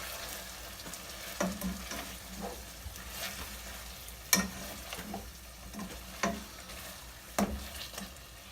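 A spoon stirs a soy sauce, pepper and salt mixture for caldereta in a pot, giving soft scraping sounds with a few sharper knocks against the side at irregular intervals over a low background hiss.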